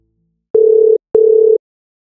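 Two evenly spaced electronic telephone ring tones on a 911 dispatch line, each about half a second long with a short gap, clean and loud against silence.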